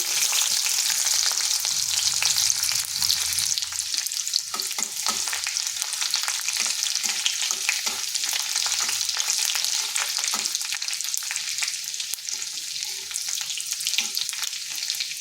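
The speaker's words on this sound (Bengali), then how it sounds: "রসুনটা হালকা ভাজা হয়ে গেছে" Garlic pieces, nigella seeds and two dried red chillies fry in hot oil, giving a loud, continuous crackling sizzle with occasional stirring scrapes throughout.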